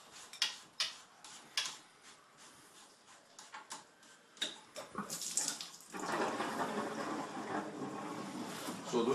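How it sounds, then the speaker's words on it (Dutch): Water rushes and gurgles steadily through a swimming pool pipe as it drains for winter, after a few sharp clicks and knocks, the flow growing louder and continuous in the second half. "Zodoende dat het water hier ook wordt weggezogen."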